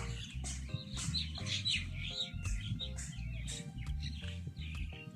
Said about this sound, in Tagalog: Dami din mga ibon.